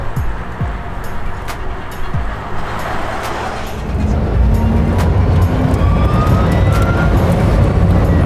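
Rimac electric hypercar driven on a track, a steady rising whine and road roar close up that swells louder midway, with no engine note and no talk.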